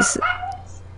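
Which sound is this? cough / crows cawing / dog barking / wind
dog barking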